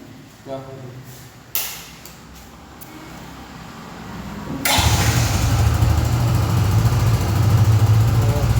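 A new motorcycle engine cranks with a couple of brief starter bursts, then catches at about five seconds and settles into a loud, steady idle that runs to the end, heard close up.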